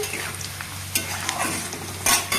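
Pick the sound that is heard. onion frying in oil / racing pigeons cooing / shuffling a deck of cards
onion frying in oil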